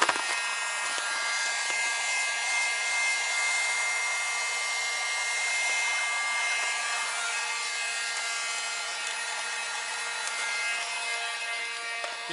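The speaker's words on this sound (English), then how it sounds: "So with your heat gun turned on" A heat gun blows hot air in a continuous, even hiss while vinyl is being wrapped onto a car, steady and fairly close throughout with no talking.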